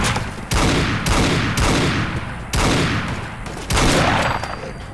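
Loud, close bursts of automatic gunfire in the Fallout video game, four or five heavy volleys with reverberant tails, with no talking over them.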